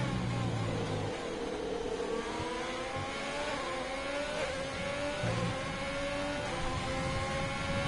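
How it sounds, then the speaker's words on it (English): Engines of an Alfa Romeo and a Ferrari race car in a racing video game at Bahrain, a steady high whine rising in pitch as one car overtakes the other, continuous and fairly loud with no talk. "the Alfa Romeo past the Ferrari"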